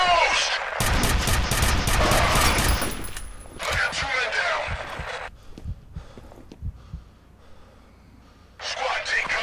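Gunfire in the video game F.E.A.R.: dense bursts of shots fill the first few seconds, followed by scattered sporadic reports and a renewed burst near the end, with speech in the game mixed in.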